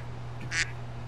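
A single duck quack from a soundboard, one short nasal honk over a steady low electrical hum. It is fairly faint and stands alone, with no talk.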